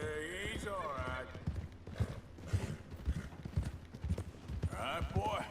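Horse hooves clip-clop in a steady walking rhythm in the video game Red Dead Redemption 2 as a rider approaches the town of Valentine, mixed with a snort or two and spoken dialogue over the top.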